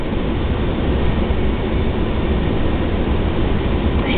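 Freight train cars of a CN northbound train roll slowly past in a steady, heavy roar, loud and close, with no breaks and no voices.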